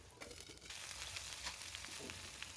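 Onions sauté in a pan for a jackfruit kofta curry, giving a quiet, continuous sizzle with light crackling and no voices.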